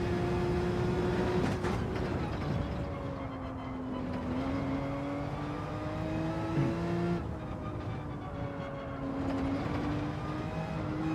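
Race car engine in Gran Turismo 7 holding a steady loud drone with gliding pitch as the driver lifts off the throttle, the note sagging and shifting over continuous road noise.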